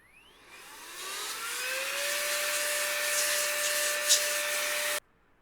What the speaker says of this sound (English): So I'm going to just do a blow off on this board.